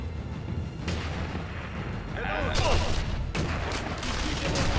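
Gunfire and heavy booming shots in the Sniper Elite V2 video game, a loud crack followed by rolling, distant-sounding blasts and continuous battle rumble.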